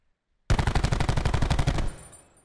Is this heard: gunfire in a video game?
yes